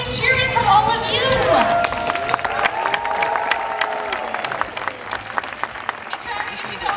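An audience at a seal and sea lion show at Six Flags Discovery Kingdom bursts into clapping and cheering, loud at first, then thinning into scattered claps while a voice carries over the tail.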